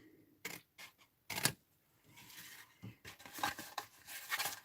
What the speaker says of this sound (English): So you want to cut a triangle out